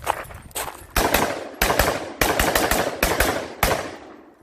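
An HK416 rifle with a short 11-inch barrel fires rapid bursts of rounds, seven sharp loud close shots or short strings spaced roughly half a second apart, with no talk.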